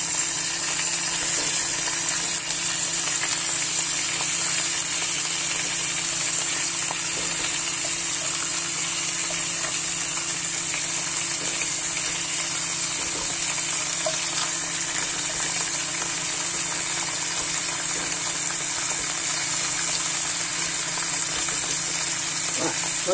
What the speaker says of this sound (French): Je vais dorer chaque face.